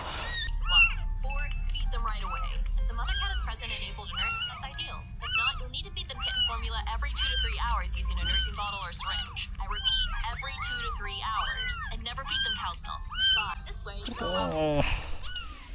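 Newborn kitten whose eyes have not yet opened, left without its mother, gives repeated high thin meows across the whole stretch, close up, alongside a person speaking and a steady low hum.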